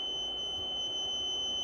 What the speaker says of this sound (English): you can't now turn off the buzzer or the alarm going off from here